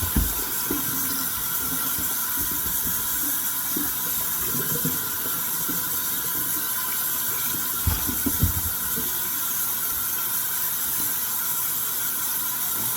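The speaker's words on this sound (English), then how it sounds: "So, just rinse them off here in the sink once again." Fish are rinsed in a kitchen sink under a tap, giving a continuous, fairly loud hiss of running water with a few splashy bumps as the fish are handled.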